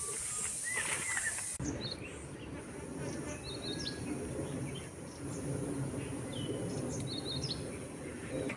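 Faint bird chirps and calls scattered over a steady insect drone, with a low background rumble outdoors at a hill fort in the evening.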